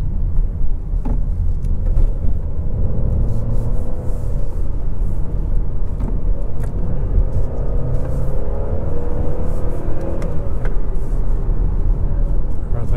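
Honda Civic EXL 2020 running through its gears, a steady low engine rumble from inside the cabin with faint rises in pitch as it climbs and shifts, continuous throughout.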